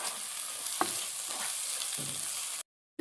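A ginger, garlic and green chili paste fries with browned onions in a pan for a fish curry, giving a loud, steady sizzle with occasional stirring scrapes before the sound cuts off abruptly.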